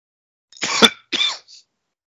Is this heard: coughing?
yes